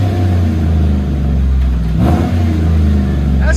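Loud, close revving of a Chevy Tahoe 5.3L V8 through a Dynomax Race Bullet exhaust: a deep, steady rumble that surges sharply in the middle before settling back.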